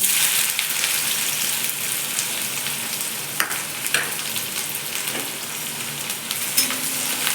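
Onion frying in oil with cumin and mustard seeds for kanda poha, a steady close sizzle over a medium flame with a few sharp crackles and spatters, no voices.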